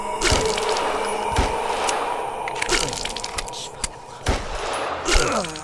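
Gunfire in the horror game Phantasmal, a run of sharp cracking shots at irregular intervals over a busy background hum, fairly close and loud.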